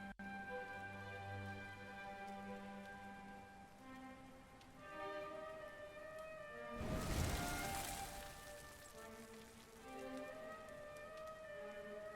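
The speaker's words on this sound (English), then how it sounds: "Looks like the rain's dying down." Steady rain in the Dragon Quest XI game, a soft even hiss lying under sustained musical tones, with a brief louder rushing swell near the middle before settling back.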